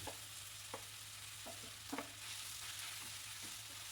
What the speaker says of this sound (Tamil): உருளைக்கிழங்கை சேர்த்துட்டு நல்லா மிக்ஸ் பண்ணிவிட்டு